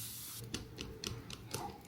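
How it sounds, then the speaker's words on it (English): Makeup setting spray misted in quick bursts, about five short hissing puffs in a loose rhythm, close but faint against a quiet room. "I'm gonna spray again."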